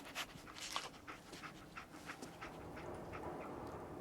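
Dogmeat, the dog companion in Fallout 4, pants steadily and rapidly through the whole stretch, close and fairly quiet, with no talk over it.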